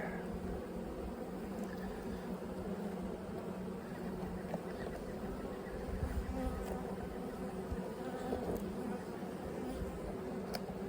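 Steady, fairly quiet buzzing of bees around a nest outdoors, a continuous insect drone holding level throughout with faint background noise.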